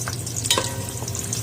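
Chopped ginger and garlic sizzle steadily in hot oil in a pan, a close, continuous frying hiss with a brief stir scrape partway through.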